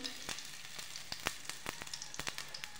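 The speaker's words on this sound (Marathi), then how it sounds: "आता याच्यामध्ये मोहरी टाकून घ्यायची, लसूण," Mustard seeds and garlic hit hot oil in a pan for potato and fenugreek bhaji, producing a soft, steady sizzle dotted with quick crackling pops, fairly faint and heard on its own.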